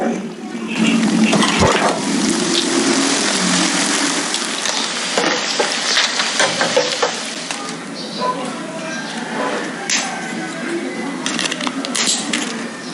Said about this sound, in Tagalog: I-deep fry lang natin to sa medium heat